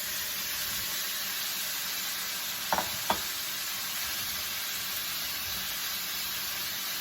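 Sausage and shrimp sizzle in a pan over medium heat, a steady close hiss of frying broken by two brief clicks of a utensil, with no voices.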